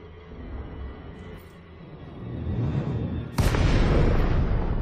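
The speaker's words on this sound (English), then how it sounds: "There's that station booming out of Super Cruise again" A space station in a space flight game booms as the ship drops out of Super Cruise, a sudden loud broadband whoosh that hits near the end over a steady low engine rumble that builds beforehand.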